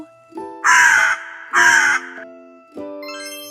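A crow gives two loud, harsh caws close by, spaced about a second apart. Light chiming tones ring around and after them.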